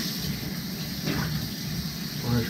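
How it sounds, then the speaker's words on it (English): A kitchen tap runs in a steady, close gush while hands are washed, with a few faint splashes and shifts in the flow and no talking. "Wash your hands off."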